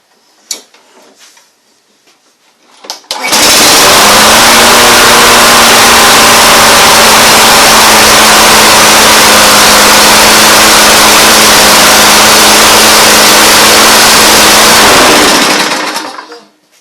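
A Tecumseh small engine, just after a carburetor cleaning, fires up and runs at a steady loud roar for about twelve seconds, then cuts off, with a few faint handling knocks before it starts.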